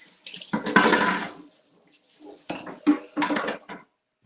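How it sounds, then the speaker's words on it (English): Dishes rinsed under a running kitchen tap, splashing water in two bursts with light clinks of dishware and short pauses between. "Mom says clean as you go, so I'm just going to rinse these off."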